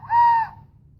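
A handmade clay whistle blown once, giving a single short, pure, fairly loud tone that holds steady for under half a second and fades over a faint low background hum.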